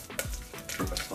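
Whole garam masala spices fry in a pan for bhuna gosht, a whole-spice mutton dish: close, steady sizzling with a couple of low stirring scrapes over roughly a second.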